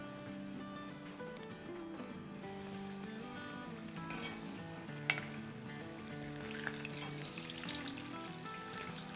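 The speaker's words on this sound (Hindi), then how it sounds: "हम इन्हें जब तक फ्राई करेंगे जब तक ये गोल्डन ब्राउन होके फ्लोट होके ऊपर ना आ जाए।" Aloo paratha bites made of boiled potato coated in flour and cornstarch deep-frying in a pan of oil, a steady close sizzle and bubble with a couple of sharp pops and no talking.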